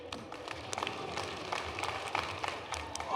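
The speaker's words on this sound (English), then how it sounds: "Let's clap it up, everybody. Come on, let's clap it up." Rhythmic crowd clapping in a stadium during a high jump competition, distant and fairly faint, over a steady wash of crowd noise.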